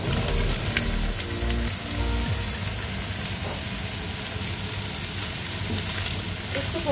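Sliced zucchini sizzling and frying in a hot pan, a steady crackling hiss with occasional stirring scrapes, no talking.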